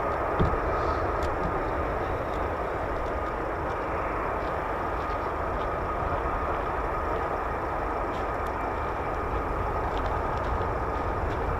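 A military fighter jet, an F-15 or F-35 of the US Air Force 48th Fighter Wing at RAF Lakenheath, produces a steady distant engine roar that holds evenly for the whole stretch, with a few faint clicks and no speech.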